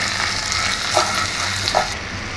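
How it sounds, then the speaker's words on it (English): Chopped ginger and ginger garlic paste sizzle steadily in hot oil for a chicken dish, a dense continuous frying hiss with a couple of soft stirring clinks, close and fairly loud. "Added some chopped ginger into the hot oil"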